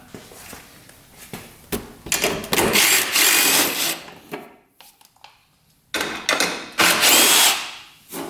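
A power tool removes the two 10mm bolts holding the battery box cover on a UTV, with loud, close whirring bursts that start and stop several times between short quiet pauses.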